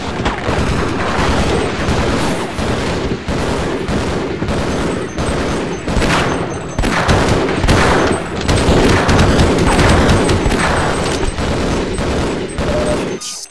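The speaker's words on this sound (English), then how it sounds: "They just never stop firing." Enemy soldiers fire continuously in Half-Life, a loud, relentless barrage of automatic gunfire with overlapping bursts and occasional heavier booms, unbroken for the full stretch.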